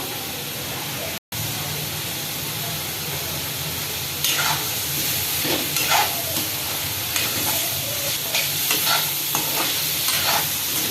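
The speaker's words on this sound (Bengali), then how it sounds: "দুটো তিনটে কাঁচা লঙ্কা দিয়ে দিলাম এইভাবে আমি ভালো করে কষিয়ে নেবো" Ash gourd and green chillies fry in a pan with a steady close sizzle, broken by a brief gap early on, then stirring scrapes and clatters that repeat irregularly over the hiss.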